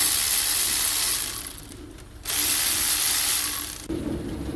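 A ratchet loosening 12mm nuts and bolts on the VVT (Valvematic) control unit of a 2009 Toyota Auris, with close, rapid, raspy clicking in sustained bursts and a brief pause between runs.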